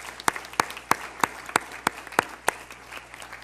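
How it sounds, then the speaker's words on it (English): Sparse applause from a school board meeting audience, about a dozen distinct claps in a slow, uneven rhythm, fairly faint and heard alone. "Colleagues, how about another round of applause for Ricky Rivas"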